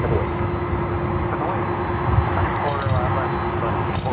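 A Delta Boeing 767-400ER jet roars on the runway at Los Angeles International Airport, a loud continuous engine rumble and whine with a steady tone, while a voice talks over it.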